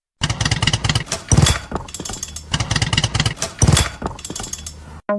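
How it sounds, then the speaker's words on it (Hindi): A motorcycle engine sputters and cuts out as it runs out of petrol, with loud, uneven bursts of revving and stuttering in two waves before falling abruptly silent near the end. "बाइक क्यों बंद हो रही है? ओ नहीं, पेट्रोल खत्म हो गया है।"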